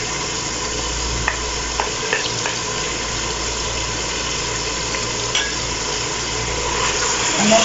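Ground coriander, red chilli powder and garam masala stirred into fried garlic in a pan, a steady sizzle under soft scraping strokes of a spoon at close range, with no talk.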